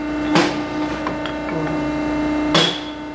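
A heavy duty shoe pressing machine holds a steady mechanical hum, broken by two sharp clunks about two seconds apart, loud and close with no voices.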